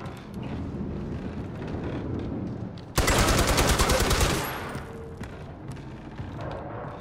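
A loud burst of rapid automatic gunfire from Far Cry 4 erupts suddenly and lasts about a second and a half during a boar hunt, over quieter game ambience before and after.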